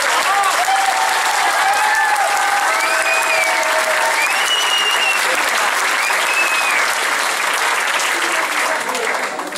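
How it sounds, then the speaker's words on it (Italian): Sustained, loud applause from a crowd at a town council proclamation in Cisciano, continuous and dense for the full stretch, with a few voices whistling or calling out over the clapping. "Un applauso."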